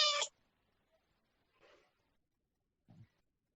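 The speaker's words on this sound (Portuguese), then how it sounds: "a gente vai aproveitar que tem o barulho da gatinha" A young female cat meows once, loud and close at the start, followed by two fainter, softer meows or mews spaced apart in an otherwise quiet room.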